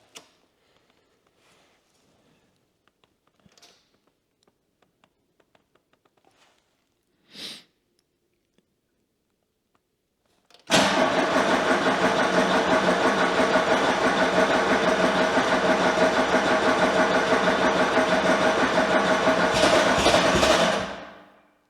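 After near silence with a few faint clicks, a small engine on a homemade mini loader starts abruptly and idles steadily and loudly for about ten seconds, then cuts off; its alternator belt is slipping at low revs.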